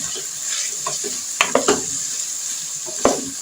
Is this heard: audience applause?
no